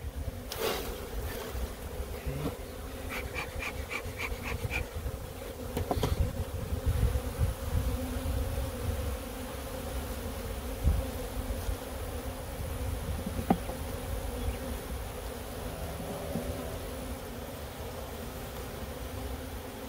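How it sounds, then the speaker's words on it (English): Honeybees buzz steadily around a freshly stocked hive outdoors, workers flying back toward their original hive; a continuous, fairly loud droning swarm with occasional nearer passes and light wind, no talking. "Now the workers, they're going to fly back to the original hive."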